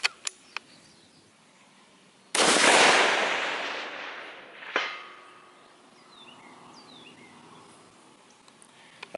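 A single sharp, loud rifle report at long-range shooting, followed by a long rolling echo that decays over a couple of seconds, then a fainter distant thump; a few small clicks precede it, with birds faint in the background.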